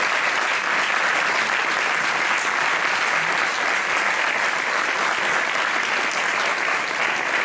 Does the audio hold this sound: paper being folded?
no